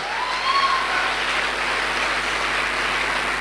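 An indoor audience applauds at a business event, a dense, even wash of clapping that carries at moderate volume for the whole stretch.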